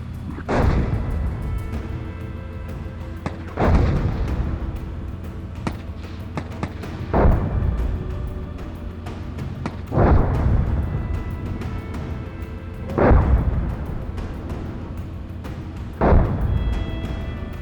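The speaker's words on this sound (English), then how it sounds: "looks like they're trying to fire artillery on us" Enemy artillery fire in the PC tank game Gunner HEAT lands as a series of heavy booms, about six evenly spaced roughly every three seconds, each a sharp loud blast that trails off over a steady low engine rumble.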